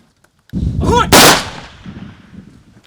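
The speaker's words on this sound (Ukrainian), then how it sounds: "пролунали постріли у повітря" Several loud gunshots fired into the air at a military funeral crack outdoors in quick succession, with a sharp blast ringing out and echoing away afterward.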